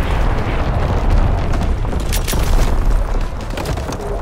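An artillery barrage rumbles in the online shooter Call of Duty: WWII during a Domination match on Shipment 1944, with dense, continuous booming explosions and crackling bursts layered without pause at loud, close range.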